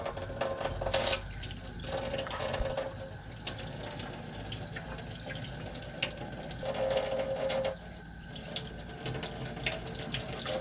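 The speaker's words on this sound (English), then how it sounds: "I'm gonna let this water run and keep it on cold for right now" Cold water runs steadily from an RV faucet into a sink while the fresh water system is being sanitized with chlorine, a continuous splashing hiss with a faint pump whine that rises and falls.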